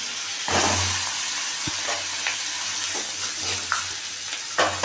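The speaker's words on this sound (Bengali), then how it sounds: "এবার শাকটা নামিয়ে মুড়োটা ভাজতে দিয়ে দিলাম" A fish head frying in hot oil in a home kitchen, with a steady sizzle running throughout and a few louder bursts and spatters breaking above it.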